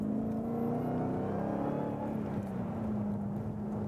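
Manual H-pattern gearbox car downshifting under braking into a corner on a driving-school track, its engine droning loud and steady close by, pitch dipping and rising again as revs are matched to the lower gear.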